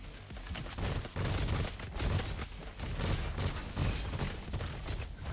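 In the Roboquest shooter, a militia rifle fires burst after burst in a steady, dense rattle of close gunfire with heavy low thumps, continuing without pause.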